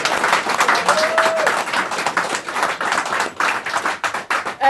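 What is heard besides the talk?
audience applause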